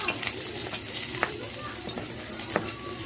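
Garlic sautéing in oil in a pan as the base for fried fish soup, a steady sizzle broken by a few sharp stirring clicks and scrapes of the spatula.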